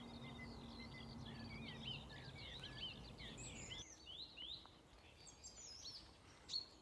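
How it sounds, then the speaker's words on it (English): A skylark sings over an open field in the Cotswolds in spring, a faint, distant stream of high twittering phrases with no voices. "Can you hear the skylark?"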